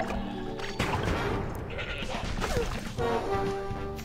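Goat bleats from the card game Plants vs. Zombies Heroes, a few wavering cries heard over busy game effects and music, with one clearer bleat near the end.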